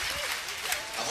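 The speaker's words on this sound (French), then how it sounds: "Belle acclamation du public" A stadium crowd in the stands at a Castres Olympique rugby season presentation applauds and cheers, a broad continuous wash of clapping and crowd noise heard from a distance.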